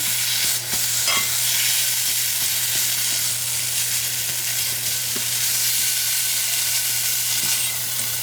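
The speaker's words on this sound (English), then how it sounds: "And then I take a fork and kind of like mash it up." A fork mashes cooked food in a pan for an autumn side dish with mushrooms, with a steady close sizzling hiss and faint scattered scraping taps throughout, no talk.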